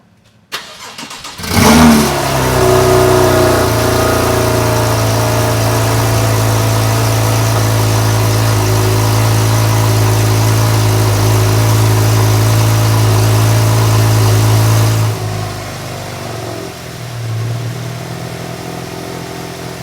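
A Porsche 911 fitted with Fabspeed stainless headers cranks and fires up, then settles into a loud, steady, close-up idle with a slight revving swell before cutting off near the end, with no talk over it.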